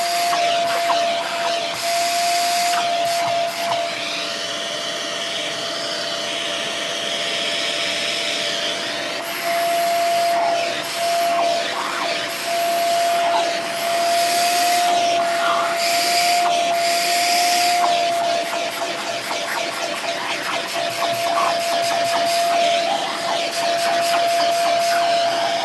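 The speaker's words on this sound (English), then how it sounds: "But we're gonna have to vacuum them first." A vacuum cleaner runs continuously while vacuuming out vacuum filters, a loud, steady whining hiss with a held tonal whine and occasional clicks and scraping shifts as the nozzle moves.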